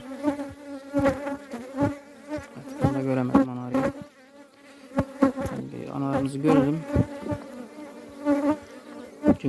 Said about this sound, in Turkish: böldüğüm arılar bunlar